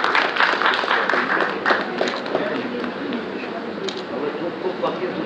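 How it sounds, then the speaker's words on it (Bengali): Audience applause fills a hall during a theatre group's 25th anniversary celebration: loud, dense clapping rattles on continuously, with voices mixed in beneath it. "জোরে করতালি চাই দর্শকদের সকলের কাছ থেকে"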